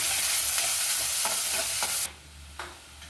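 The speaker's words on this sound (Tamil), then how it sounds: "வெங்காயம் சேர்த்துக்கலாம் வெங்காயம் வந்து நல்லா வதங்கட்டும்" Onions fry in hot oil in a pan, a loud steady sizzle with a few scraping stirs, then the sizzle drops sharply and a single soft stir follows.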